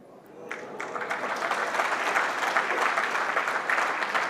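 An audience at an investor meet gives applause that swells from scattered claps into steady, full clapping and holds for several seconds, moderately near with no talk over it.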